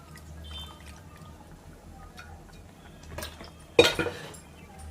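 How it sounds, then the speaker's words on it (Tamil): A brief splash of tamarind water poured into a pot of sambar, with a clink of metal, after quiet kitchen background. "இப்போ நம்ம புளி தண்ணி கரைச்சி ஊற்றலாம்."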